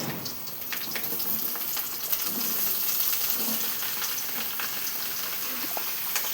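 Mushrooms frying in oil with chillies, a continuous soft crackling sizzle with scattered pops and spatters, steady and close, no voices.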